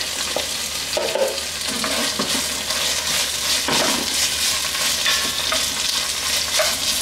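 Onions and other ingredients for pancit canton sauté in a hot pan, a loud, close, steady sizzle with occasional stirring scrapes and no talking.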